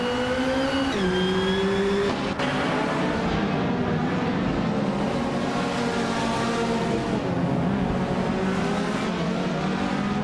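Engine of a 1974 BMW 2002 in a racing video game roars steadily at high revs, pitch dipping at a gear shift then climbing and wavering through corners, loud and unbroken with no voices.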